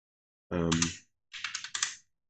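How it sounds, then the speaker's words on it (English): Someone types a number on a computer keyboard: one short burst of clicks, a brief pause, then a quick run of four or five crisp, close keystrokes. "I can also click and type in my own number"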